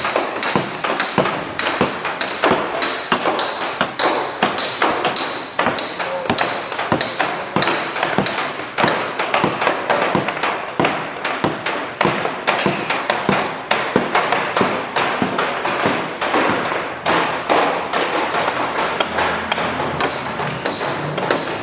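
A hammer strikes a metal dolly in dense, continuous rapid blows, loud and close with bright metallic ringing tones, in an auto body panel-beating lesson.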